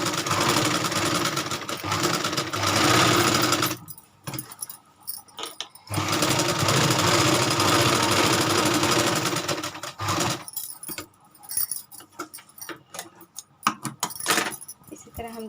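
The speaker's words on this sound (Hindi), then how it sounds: "अब इसे हम सिलाई लगाएंगे।" A sewing machine stitching a suit, running loud and fast in two long bursts, then short stop-start runs with clicks and handling noises in between, with no talk.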